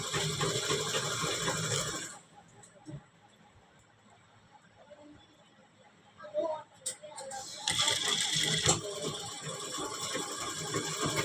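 Sewing machine stitching a back neck patch on a blouse, running steadily at the start, stopping for a quiet stretch with small handling sounds, then running again near the end.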